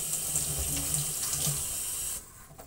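Tap water runs steadily into a sink while a pineapple is washed under it, a close, even splashing stream that cuts off abruptly near the end.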